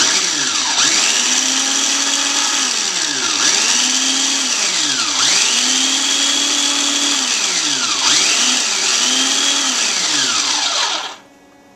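A food processor whirs loudly and continuously while blending pesto, its motor pitch dipping and recovering in repeated cycles as olive oil is poured in, before it cuts off abruptly.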